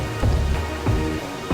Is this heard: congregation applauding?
no